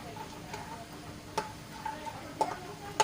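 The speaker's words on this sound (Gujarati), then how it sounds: "આ સિંગદાણાને આપણે થોડોક કલર ચેન્જ થાય ત્યાં સુધી એને તળી લઈશું" Peanuts fry in hot oil with a faint low sizzle, broken by scattered light ticks and crackles, a few sharper pops standing out near the end.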